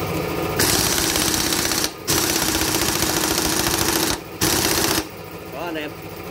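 Pneumatic impact gun hammering loudly in two long rattling bursts with brief pauses, tightening the steering head bearing nut on a motorbike; a voice speaks briefly at the end.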